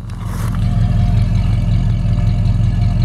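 A 1970 Ford Torino GT engine idles steadily through the exhaust, a low, throaty rumble with a faint pulsing throb, close and continuous with no talking.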